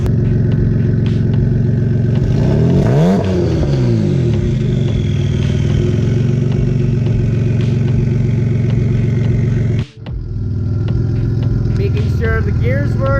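Front engine running and revving on a vehicle after a cooling fix, a loud, steady close idle with a rising rev partway through, a brief cutout and a rough restart, under occasional talk.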